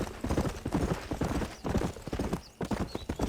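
Horse hooves clip-clop in a steady trotting rhythm in the Red Dead Redemption game, loud and close, with an occasional faint whinny.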